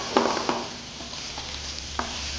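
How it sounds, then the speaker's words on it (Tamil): Diced tomatoes hit a pan of cooked ginger and garlic and are stirred, giving a soft steady sizzle broken by a few sharp scraping stirs, close and moderately quiet. "இஞ்சி பூண்டு குக் ஆன அப்புறம் டொமேட்டோஸ் ஆட் பண்ணுங்கள்."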